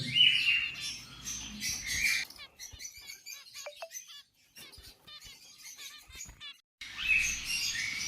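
A group of about ten cockatiels for sale chirp and tweet continuously, with bright bursts at the start and end and sparser calls in between.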